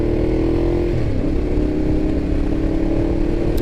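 A 2012 Ducati Diavel motorcycle cruising on bumpy secondary roads, with a steady, close engine drone whose pitch dips and then holds, plus rumbling wind and road noise throughout.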